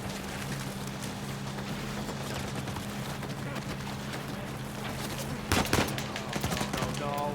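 Video game gunfire from Uncharted 4 rattles in rapid, continuous bursts under a steady low hum, with a sharper, louder volley near the end.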